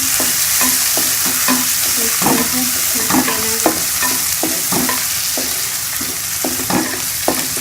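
Chopped tomatoes and two green chillies fry loudly in a pan, a constant close hiss broken by regular scraping stirs of the spoon.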